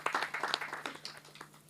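A small audience at a devotional music video launch claps in a short burst, strong at first and then thinning out into scattered, quieter claps.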